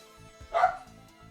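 A pet dog named Daisy gives a single sharp bark, close and fairly loud, with a faint voice underneath.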